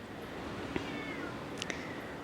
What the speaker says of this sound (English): I'm looking at a cat sitting under a streetlight.